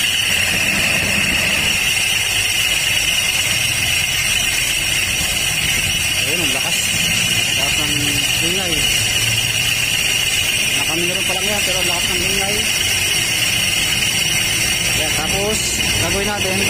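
Honda Click 125 scooter idling with its CVT cover off and a grinding, metal-crushing noise from the CVT. A steady engine drone carries high tonal whine and buzz throughout, with faint varying tones in the lower range and talk over it.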